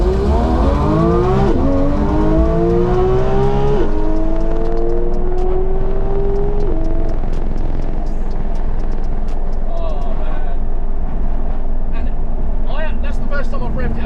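A Porsche 911 GT3 RS Weissach pulls away at full throttle, its loud engine note climbing steeply through several gears before easing off. Voices talk over it throughout.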